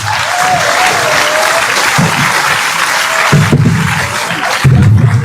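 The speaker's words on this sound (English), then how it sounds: "Please do it well with a resounding round of applause" A radio and TV studio audience in Ghana applauds for Honorable Kennedy Japan, a loud, dense, sustained round of clapping that swells and rises near the end.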